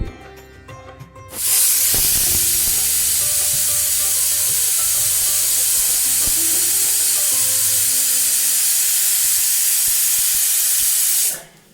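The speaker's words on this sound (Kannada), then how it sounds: "ಕುಕ್ಕರ್ ಕ್ಲೋಸ್ ಮಾಡಿ ವಿಸಿಲ್ ಹೊಡೆಯೋಕ್ಕೆ ಬಿಟ್ಬಿಡಿ" A loud, steady hiss of steam jets out abruptly from a pressure cooker whistle while rice cooks, holding at full force for about ten seconds before cutting off.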